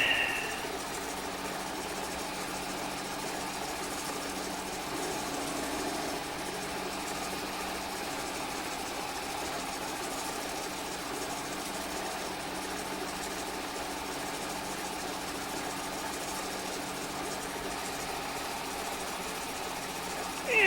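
A vintage farm machine in Farming Simulator 25 chugs at a steady, even rhythm, a constant mid-level engine drone that carries on unchanged for the whole stretch, with a voice talking over it.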